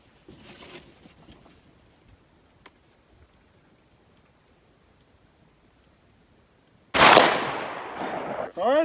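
After a long stretch of near-quiet at an outdoor shooting range, a 12 gauge shotgun fires a Fury slug in a single loud, sharp blast that rings off, with another shot just starting at the very end.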